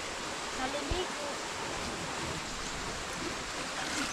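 Steady rushing water of a high-running river fills the scene, a constant broadband wash with faint voices murmuring underneath.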